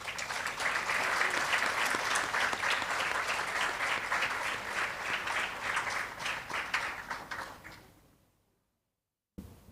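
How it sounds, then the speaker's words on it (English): An audience at a national awards ceremony applauds a teacher's award, giving sustained, fairly distant clapping that fades to silence near the end before a brief sound returns. "Let's give her another round of applause as she steps into the light."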